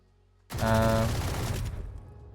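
Valorant gunshots fired through a brick wall on Lotus: a sudden loud burst of rapid shots that rings briefly, then fades into a decaying tail.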